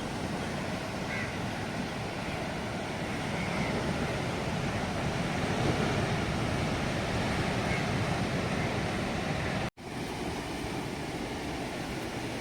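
Sea waves wash steadily onto the shore by a coastal temple with a large Shiva statue near Thiruvananthapuram, a soft, even rush from some distance with wind noise across the microphone and one brief dropout.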